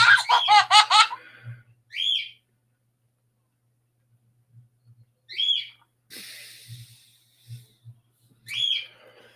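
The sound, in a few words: pet bird calling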